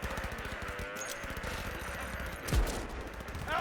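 Police open fire in Cyberpunk 2077, a steady rapid string of gunshots rattling over city noise, with a heavier blast partway through and more shots at the end.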